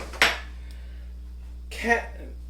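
A small spatula flips a corn tortilla toasting in a pan: two brief, close scraping clatters about a second and a half apart, with quiet between them.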